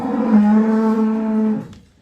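A cow lets out a single long, loud moo close by, trailing off at the end.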